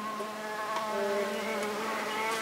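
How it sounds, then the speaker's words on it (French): Honeybees buzz from a hive in a dense, steady drone with layered wingbeat tones, close and alone without talk. "récupérer des abeilles dans une ruche"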